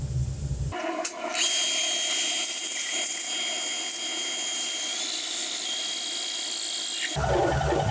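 Cutter head boring an engine cylinder to oversize, a steady high-pitched machining whine that starts with a clunk and runs loud and continuous for several seconds before stopping abruptly.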